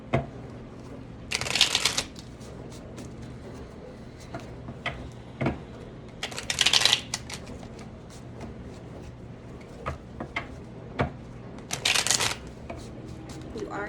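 Three bursts of cards being riffle-shuffled, each a crisp fluttering rush, separated by quieter taps and handling noises.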